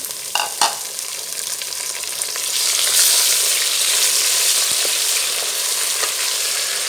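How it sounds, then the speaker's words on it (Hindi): Mutton fries with browned onions in a pan for aloo gosht, a loud steady sizzle that swells and holds while a utensil stirs and scrapes now and then, heard close with no talking. "4 से 5 मिनट गोश्त को अच्छे से भुना, कलर चेंज होने तक"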